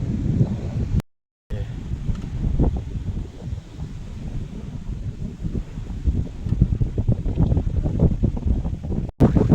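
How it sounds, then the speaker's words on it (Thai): Strong wind gusts across the Lam Phra Phloeng reservoir and batter the microphone with a loud, continuous roar. The sound cuts out briefly twice, with no talking. "ลมแรงครับ ลมแรง แรงมาก"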